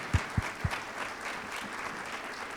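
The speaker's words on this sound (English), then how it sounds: "let's give another huge round of applause to every single one of these ladies" Applause for a panel of women at a regional state-of-the-region event, a few sharp thumps at the start, then a soft, moderately distant patter of clapping from the audience.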